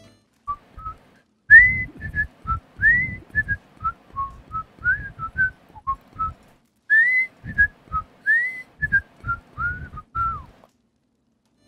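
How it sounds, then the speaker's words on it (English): A person whistles a familiar tune in a Red Dead Redemption 2 roleplay game, giving clear, close, melodic phrases in steady bursts with short pauses and no talking. "You can do a mean whistle, though."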